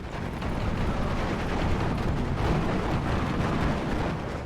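Explosions from air strafing runs in the WWII strategy game Steel Division 2 rumble continuously, a dense, loud wall of blasts and rolling booms with no talk.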